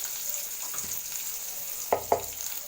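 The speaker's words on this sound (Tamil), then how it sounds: "ஒரு நிமிஷத்துக்கு வந்து நல்லா வதக்கி வைக்கலாம்" Onions and spices sauté in a pan for mutton fried rice, a steady soft sizzle with a couple of brief stirring clinks near the end, no talking.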